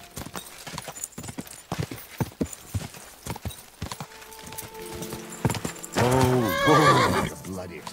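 Rapid hoofbeats clatter unevenly in the video game Kingdom Come: Deliverance II, then a horse lets out a loud, drawn-out whinny near the end; someone speaks briefly over the hooves.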